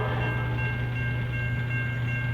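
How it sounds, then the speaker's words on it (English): Amtrak 91, a passenger train running southbound out of Selma, rumbles past with a steady low mechanical drone and tonal hum, loud and continuous over a short stretch. "Amtrak 91, southbound out of Selma."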